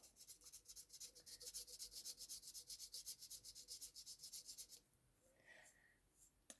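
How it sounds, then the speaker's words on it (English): A ceramic repair is sanded by hand with quick, rhythmic back-and-forth rasping strokes, close and fairly quiet, about five strokes per second for several seconds before stopping. "I would keep doing this until I'm quite satisfied that it's starting to sand down quite well"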